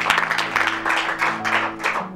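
Audience applause in a hall at a ceremony, a steady wash of many hands clapping at a moderate level. It runs for about two seconds with no gaps, and a faint sustained tone hums underneath.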